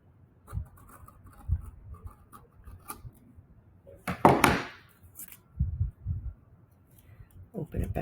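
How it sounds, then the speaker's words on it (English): Scissors snip through a folded, creased square of paper in a craft lesson, a short crisp burst of cutting and rustling standing out among soft handling noises and intermittent speech. "I'm going to fold it, crease it,"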